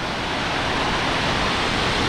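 A waterfall in Oregon roars as a steady, dense rush of falling water, loud and continuous with no voices over it.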